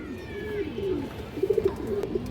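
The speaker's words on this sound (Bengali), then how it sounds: "হাই ফ্লায়ার রামপুরি নর কবুতর" Male high-flyer Rampuri pigeon cooing close by, soft low throaty coos that swell into a few pulsing bursts near the end, quiet overall with a faint higher call in the background.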